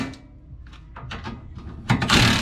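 Bolts on a drift angle kit bracket for a Honda S2000 are tightened with hand tools, a series of short close metallic ratcheting clicks ending in a louder clatter of metal handling.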